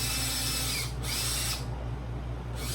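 A power drill bores holes into the top of a DIY box filter, whining loudly and continuously at close range with brief dips between holes.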